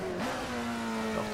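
Alfa Romeo 33 Stradale engine in the Assetto Corsa racing game revving after a missed gear shift, a steady near engine tone holding high, briefly sliding in pitch, heard alone.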